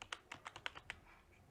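A few quiet, distinct key taps on a computer keyboard sound close by in an irregular rhythm over a short moment, with faint room hum underneath.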